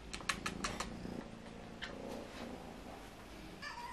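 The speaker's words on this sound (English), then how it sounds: "So I've got one very hungry little kitty." A hungry Ragdoll kitten purring close by, with a few quick clicks and soft meows over a low steady rumble, at a quiet level.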